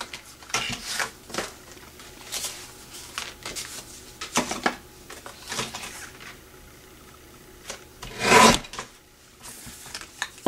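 Scissors snip through a paper shipping tag, trimming about an inch off the bottom, heard as scattered short rasping cuts with one louder, longer cut near the end.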